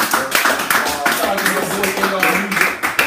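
Small group clapping in a radio studio for a guest, a short burst of scattered hand claps mixed with talking voices throughout.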